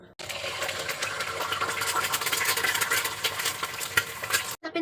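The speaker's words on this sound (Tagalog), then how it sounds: "Tapos, mag-fry tayo ng egg." An egg fries in a wok with a loud, continuous crackling sizzle that fills the whole stretch before cutting off abruptly at the end.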